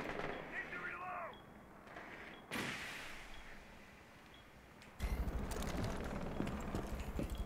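Gunfire in the tactical shooter Rainbow Six Siege: loud, sudden shot blasts and rapid bursts over a busy in-game background, with players talking.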